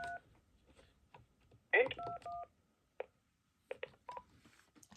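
Short bursts of DTMF caller ID tones on a telephone line, a few brief dual-tone beeps in quick succession amid faint background noise and clicks, fairly quiet overall.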